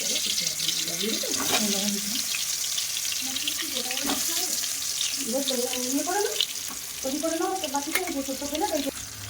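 Potatoes fry in a pan with an even, moderately loud sizzle, while a gliding tonal voice or melody keeps rising and falling over it in repeated phrases.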